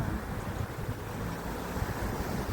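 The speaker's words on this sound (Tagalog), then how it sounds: "Lakas ng hangin." Strong wind roars and buffets the microphone in uneven gusts, a broad rushing noise with no voices.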